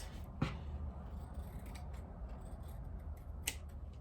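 Scissors snipping through fabric while a dress is cut out, two distinct crisp cuts over a quiet room hum, close and fairly faint.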